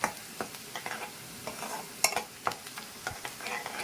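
Curry leaves fry in a pan for a broad bean curry, giving a soft steady sizzle broken by irregular scraping stir strokes close by.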